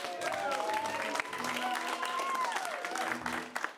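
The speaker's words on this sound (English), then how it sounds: "Keep that round of applause going for all your players coming to the stage" An audience at an improv comedy show keeps applauding as players come to the stage, the clapping running continuously at moderate level beneath a sustained music-like tonal sound.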